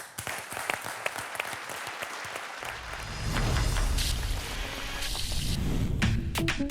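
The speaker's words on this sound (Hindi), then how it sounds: "जोरदार तालियों से स्वागत करते हैं" An audience at a startup pitch show applauds to welcome the founders, a dense rain-like clatter of clapping that thickens and grows louder partway through and keeps going to the end, with no speech.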